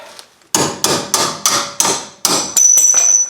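A hammer strikes repeatedly while knocking out a strut bolt on a 2007 Ford Edge, about seven loud, close metallic blows in a steady rhythm, the last ringing slightly longer.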